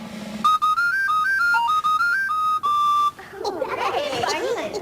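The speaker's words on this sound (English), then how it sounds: "It's a captain's whistle." A captain's whistle blown close up in a children's show, playing a bright, shrill tune of short stepped notes for about three seconds, then giving way to a burst of chatter and lively talk.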